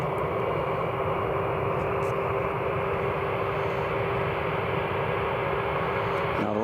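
A KLM airliner vacates the runway at Newcastle Airport with a steady, continuous engine rumble and hum, unchanging and moderately loud throughout.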